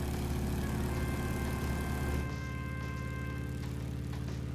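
A propeller airplane's radial engine in Microsoft Flight Simulator drones steadily and fairly faint, its low, sustained hum shifting and thinning partway through, with no voices.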